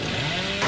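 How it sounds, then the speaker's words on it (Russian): A chainsaw revving in the video game Dead by Daylight, heard as a loud, continuous buzzing roar close up that surges slightly louder near the end. "Я пытался завести бензопилу."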